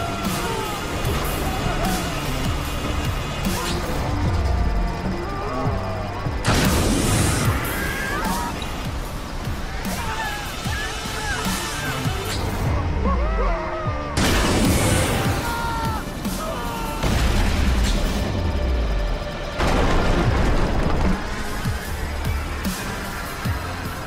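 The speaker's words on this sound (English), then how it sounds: "Detecting multiple explosions." In the Xbox One game ScreamRide, several loud booming explosions and crashing building-collapse rumbles hit in repeated bursts over a continuous game soundtrack and effects bed.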